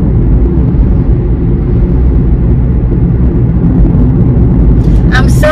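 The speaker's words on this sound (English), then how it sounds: "There is a lot of traffic noise today." Steady road traffic on a busy bypass heard from inside or beside a car, a continuous low rumble of engines and tyres filling the background, with a few brief higher sounds near the end.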